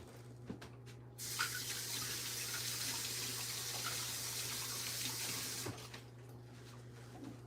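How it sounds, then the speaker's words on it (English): Hands are washed under a running kitchen tap, a steady close rush of water that starts abruptly, runs for about four seconds and then shuts off, with no talking. "let me wash my hands real quick"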